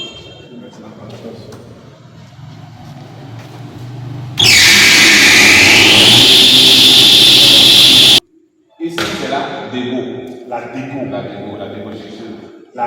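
A jointer woodworking machine switches on with a loud, steady high whine that runs for about four seconds, then cuts off abruptly, followed by voices talking nearby.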